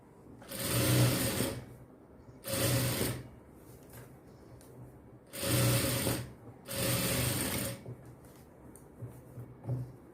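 A sewing machine stitches a cross-cut blouse in four loud, close bursts of rapid mechanical whirring, each lasting about a second, with short quiet gaps between them.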